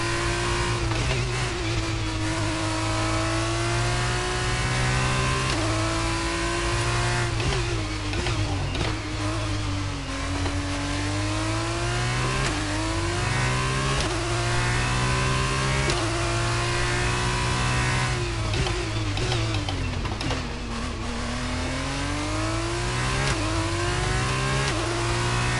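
An F2 race car in the F1 22 video game at Bahrain roars continuously close up, engine pitch sweeping up through the gears and dipping on downshifts, loud and unbroken throughout.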